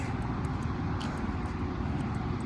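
A helicopter flies overhead, its steady broadband rotor and engine roar filling the scene at close range, continuous throughout with no talk.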